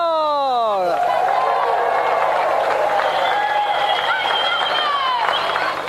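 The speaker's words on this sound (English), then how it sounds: "let's have another round of applause for our gallant competitor" A game show studio audience applauds a competitor with sustained, dense clapping and cheering that fills the whole stretch. A brief whooping or descending jingle opens it, and the applause stays loud and close throughout.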